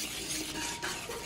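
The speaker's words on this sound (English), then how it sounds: "I'm going to add some and then stir it up a little bit" Seasoning stirred into a dry mix for fried whole perch, a continuous gritty rustling and scraping in a bowl, close and steady with no talk.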